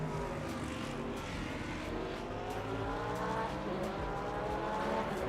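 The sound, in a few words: hypercar racing in Le Mans Ultimate video game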